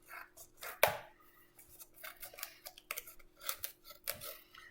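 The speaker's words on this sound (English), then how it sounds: "So step 1, grab your scissors." Scissors snip through cosmetic palette packaging, with one sharp, loud cut near the start and then a run of quieter, irregular clicks and snips close by.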